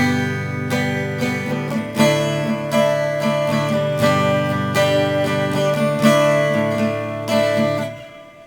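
Guitar strumming the G-based verse chord progression of a song, ringing chords changing every second or so, loud and close with no voice over it, fading out at the end.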